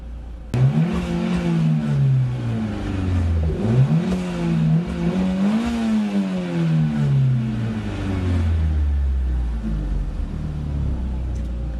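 A warmed-up car engine revs loud and close, rising and falling through several climbs, each ending in a hiss from the turbo blow-off valve, then easing back toward a low idle rumble.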